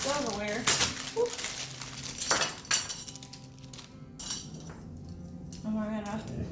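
Metal forks and knives clink and rattle against each other and a plate while a fall table is being set, several scattered bright chinks and some rustling heard close by, with a person talking over them.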